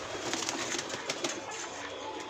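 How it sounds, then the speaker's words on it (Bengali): Pigeons cooing at close range, among other birds kept alongside chickens and ducks, with a steady hiss of background noise and soft, overlapping calls throughout. "বাকি সব পায়রা এখানে রয়েছে"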